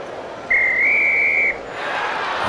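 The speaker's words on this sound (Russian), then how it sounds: "вот раздался свисток" A referee's whistle at the end of the second half of a football match between FK Lepel and Rukh Brest sounds one clear, sustained blast lasting about a second over quiet background noise.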